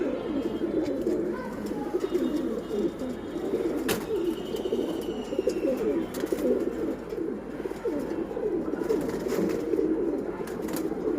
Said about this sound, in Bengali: এটা সরাসরি সিলভার কবুতর